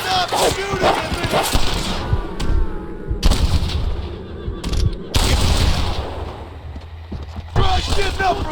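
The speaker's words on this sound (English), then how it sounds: "Stop shooting at me!" Gunfire in Red Dead Redemption comes as several sharp, loud shots at irregular intervals, with a voice talking between them over a rumbling backdrop.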